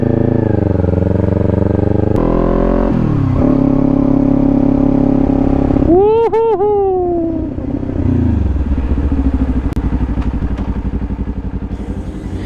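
A 2018 Kawasaki Ninja 400 motorcycle being ridden, its engine droning loudly and steadily with revs climbing and falling through gear changes and one sharp, whining rev burst midway, with no talking.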